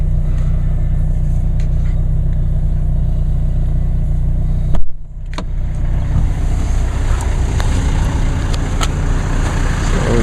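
A diesel vehicle with a full tank sits in sleet, its engine rumbling loud and close. There is a sharp break partway through as it cuts or restarts, and then the heavy idle settles back in.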